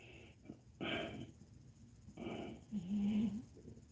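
A pet dog snoring while asleep on a chair nearby, with soft wheezy snorts and breaths in short bursts, ending in a louder rasping snore.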